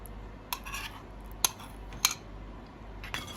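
Salad of vegetables freshly coated in sauce being tossed in a bowl, with a few sharp clinks of a spoon or utensil against the dish over soft, wet mixing sounds, close and fairly quiet.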